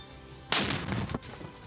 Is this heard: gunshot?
yes